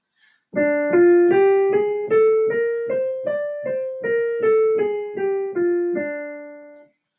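A melodic scale played note by note, about twelve evenly spaced tones rising and then falling back, clear and close with no voices.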